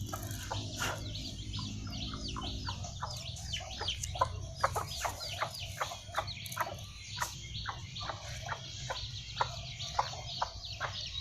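Chickens cluck steadily and close by in a quick, irregular run of short calls that carries on throughout, with no talk over it.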